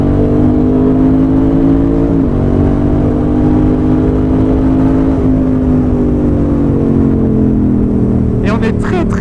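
Yamaha XSR700 motorcycle pulling hard through its gears, engine note rising in long sweeps broken by two quick shifts, loud and close as from the rider's position, with a brief wind-buffet burst near the end.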